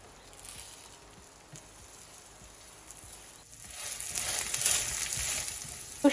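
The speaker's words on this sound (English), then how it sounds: "It takes almost 5 to 6 minutes for the pancakes to be cooked thoroughly. Add some oil over it and then flip it." Radish mini pancakes fry in oil in a pan, a soft steady sizzle that swells louder and brighter partway through as more oil is added, close by with no talking.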